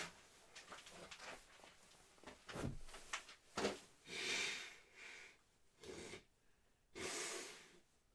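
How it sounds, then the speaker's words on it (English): Several short nasal blows and sniffs from one person close by, irregular bursts with quiet breathing between them, heard during a break from modding an N64 console. "Might blow my nose quick."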